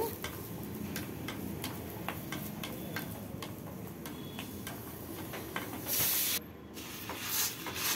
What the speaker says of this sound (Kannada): ಕೊಬ್ಬರಿನೇ ಫ್ರೈ ಮಾಡ್ಕೋಬೇಕು.